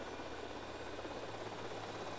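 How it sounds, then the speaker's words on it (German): Helicopter rotor and engine drone from GTA Vice City gameplay, a steady low, even whir that holds throughout with no speech. "Das ist wahrscheinlich die schlimmste Helikoptersteuerung, die ich jemals hatte."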